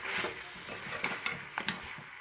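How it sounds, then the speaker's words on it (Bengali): Turmeric, chilli, coriander and cumin powders are stirred together in a pan, producing short, soft scraping strokes over a faint sizzle, close and quiet. "এবার এগুলো ভালো করে মিশিয়ে নেওয়ার পালা"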